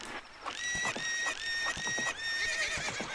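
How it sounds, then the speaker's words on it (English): Horse in Ocarina of Time repeatedly neighing and whinnying with shrill, quavering calls over a steady game background, with faint hoof clip-clop between cries, loud and close throughout. "The horse is just going to be screaming in my ears this entire time"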